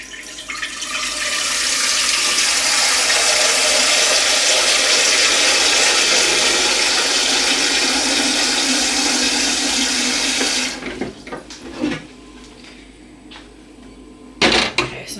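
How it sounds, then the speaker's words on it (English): Kitchen tap water runs strongly into a pan being filled for boiling rice, a loud steady rushing stream that cuts off near the end, followed by a few clunks and handling sounds. "I always start by filling up my pan of water for the rice."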